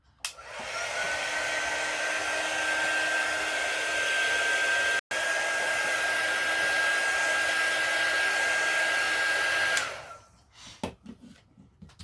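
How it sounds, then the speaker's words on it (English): A hair dryer blows steadily on fresh paint for about ten seconds, loud and close, with a brief cut near the middle before it switches off and a few soft handling sounds follow. "And we'll get out the dryer."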